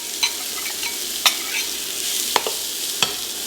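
Onion hits hot oil in a pan while making Zuppa Toscana soup, a soft continuous sizzle broken by a few sharp utensil clicks as it is stirred, close and without talk.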